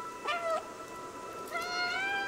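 An in-game cat meows twice in the video game Stray, each a clear, close, rising-and-falling cry, the second a little longer, over a steady low background hum with no talking.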